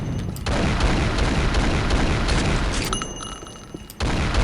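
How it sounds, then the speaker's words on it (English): Revolver fire in Unreal Tournament 99, a dense, loud stretch of booming game-weapon noise that fills nearly the whole span, with a sharp break near the end before the racket resumes. "Next we have the revolver. It just shoots."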